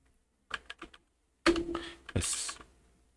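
A short burst of keystrokes on a computer keyboard, then a louder cluster of clacks and a longer keypress, close and otherwise quiet.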